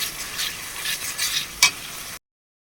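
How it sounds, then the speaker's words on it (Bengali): Spice paste for mutton curry fries and is stirred in a hot pan: a bright, continuous sizzle with scraping strokes and one louder clink near the end before the sound cuts to silence. "পেস্ট করে রাখা মশলাটা দিয়ে দিলাম। মশলাটা ভালো করে কষিয়ে নেব। এই যে এটা কষিয়ে নিচ্ছি।"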